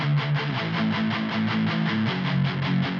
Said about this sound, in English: I recorded two pairs of guitars, the one using this preset that sounds like this